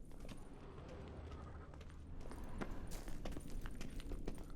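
Rhythmic clip-clop of horse hooves in The Witcher 3: Wild Hunt, over a steady low background, growing slightly louder midway through.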